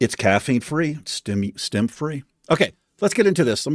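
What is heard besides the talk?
No distinct noise like a dog, phone or traffic.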